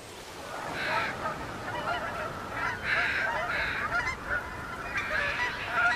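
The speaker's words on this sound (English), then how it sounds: "the Mississippi becomes a crossroads for water birds" Water birds honking on the Mississippi, a flock of geese calling repeatedly in overlapping bursts at moderate distance over a steady outdoor background.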